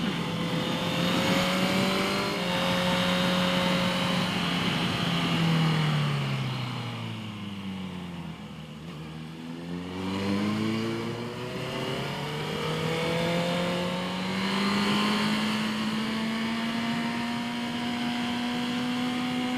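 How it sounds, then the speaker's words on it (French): Motorcycle engines on a mountain road climbing through the Vercors and Maurienne, a close bike rising and falling through the gears as it takes bends, with other motorcycles ahead and behind, loud and continuous and with no talk. "il y a des motos devant, il y a des motos derrière"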